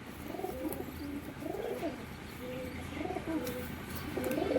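Madras pigeons coo in soft, low, rolling phrases, repeating four or five times at a steady pace, fairly close, over a faint outdoor hum.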